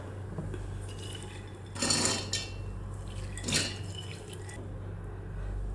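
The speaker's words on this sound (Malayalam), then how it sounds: "നമുക്കൊരു മിക്സിയുടെ ജാർ എടുക്കാം. അതിലേക്ക് നമുക്ക് ഉഴുന്നിട്ട് കൊടുക്കാം." Urad dal is tipped into a mixer jar in two short rattling pours about a second and a half apart, close and clear over a faint steady hum.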